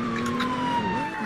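A police car siren from the Roblox game ERLC, a steady electronic tone that slowly drifts downward, held loud and continuous throughout with a faint voice underneath.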